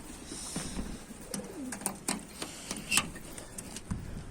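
A Konya pigeon with feathered feet coos close by, giving a series of soft throaty coos and short calls against faint background noise.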